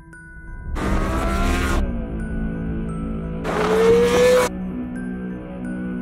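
BMW S1000RR sport motorcycle engine idling steadily, with two sharp throttle blips rising into loud revving bursts before dropping back to a smooth idle, heard close and alone.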